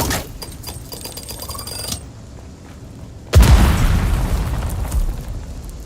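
A bomb detonating in the Dune: Awakening video game, a sudden heavy boom partway through followed by a long rumbling roar that stays loud to the end, preceded by quieter game ambience.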